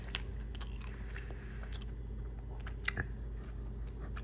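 Someone bites and chews crunchy fried food from Tropical Hut, close to the mouth, with sharp crisp crunches scattered irregularly over a quiet background.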